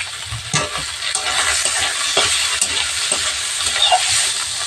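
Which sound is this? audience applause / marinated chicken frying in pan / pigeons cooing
marinated chicken frying in pan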